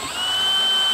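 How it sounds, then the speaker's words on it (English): A power drill whines steadily at close range while pre-drilling metal roof panels, its pitch holding high and even. "I need to pre-drill."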